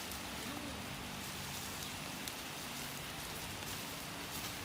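Steady rain falling, a constant wash of droplets on surfaces, even and unbroken throughout with no one speaking.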